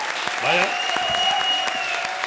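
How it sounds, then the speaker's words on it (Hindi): A studio audience at a Comedy Circus taping applauds in a brief, moderately loud wash of claps, with a voice speaking over it and a faint tone trailing across. "एक बार जोरदार तालियां जावेद भाई के लिए"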